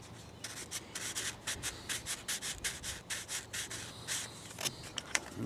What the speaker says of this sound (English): take a piece of 220 grit sandpaper, real fine, and just open that up just a little bit on each side.